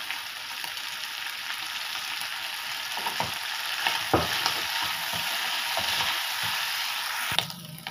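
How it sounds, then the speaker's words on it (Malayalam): Prawns frying in oil in a pan for prawn biryani, a steady, close sizzle lasting throughout with a few soft stirring scrapes and clicks. "കൊഞ്ചൊക്കെ പൊരിഞ്ഞിട്ട് വന്നിട്ടുണ്ട്."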